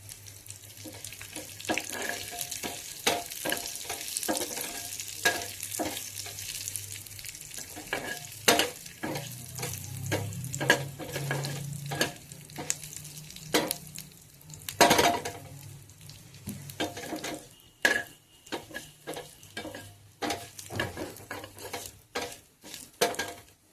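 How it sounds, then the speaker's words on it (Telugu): Sambar tempering sizzles in hot oil in a home kitchen. Steady frying crackle runs underneath scattered clinks and scrapes of stirring, with some watery, tap-like splashing along the way. "ఇప్పుడు ఇవన్నీ మీ ఆయిల్లో ఫ్రై చేసుకుందాం"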